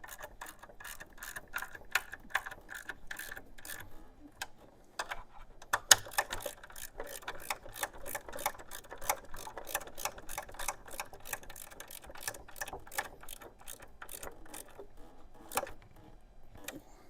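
Ratchet clicking while running the front-wheel bolts down on a 1500 Honda GL1500 Goldwing, in quick rapid bursts of ticking pawl clicks with short pauses between strokes, close and fairly loud, with no talking.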